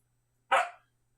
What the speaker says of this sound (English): No, you don't need to bark.